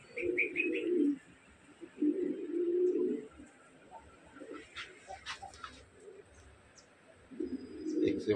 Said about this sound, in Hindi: एक से बढ़कर एक कबूतर है